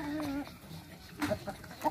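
Chickens cluck in short, scattered bursts over a quiet background, with a few soft clucks near the end.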